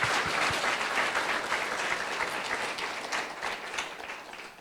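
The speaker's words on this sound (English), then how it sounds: "Let's have a round of applause." An audience claps through a round of applause at a book-launch lecture, a dense, close crackle of many hands that slowly thins and fades toward the end.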